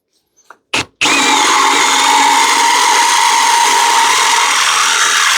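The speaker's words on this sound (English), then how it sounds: "these are a little harder to remove, but you can do it the same way with the step drill" A step drill drilling out a rivet: after a couple of short taps and a brief burst, the drill spins up loudly and runs continuously with a steady high whine until the end, no talking.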